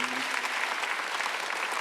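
A church congregation applauds during a Sunday worship service, dense even clapping filling the room throughout, with a brief voice tone at the very start.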